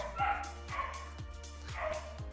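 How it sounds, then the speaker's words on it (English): Dogs barking repeatedly indoors, a steady series of about five sharp barks at a moderate distance over a low background hum. "Got my dogs going absolutely crazy."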